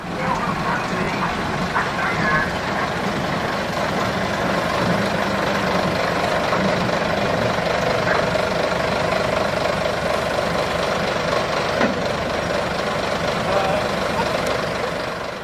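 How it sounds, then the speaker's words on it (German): A Henschel 80 hp diesel-electric locomotive idles with a steady, rumbling engine drone that holds evenly throughout at moderate distance; a voice narrates over it. "haben wir es hier mit einem dieselelektrischen Triebfahrzeug zu tun. Der Dieselmotor erzeugt mittels angeflanschtem Generator den Strom für den elektrischen Fahrmotor."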